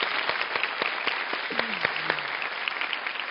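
A small group claps in quick, uneven bursts to encourage a singer before a Turkmen song, the applause close and lively, with a brief voice or whistle-like tone partway through.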